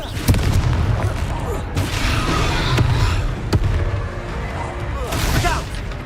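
The Confringo fire spell explodes in Hogwarts Legacy with several sharp booms and crackling blasts over a dense game soundscape, along with shouted voices.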